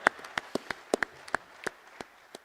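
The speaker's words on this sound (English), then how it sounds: "you're very welcome to clap that" Sparse applause from an audience at an economic forum session, a dozen or so scattered individual claps spaced irregularly, faint and thin rather than a full ovation.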